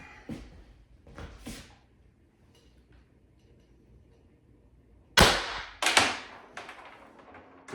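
Pistol fitted with a Pistelle X.68 compensator barrel firing single shots, with a loud sharp report near the end followed by a second crack, after fainter earlier transients.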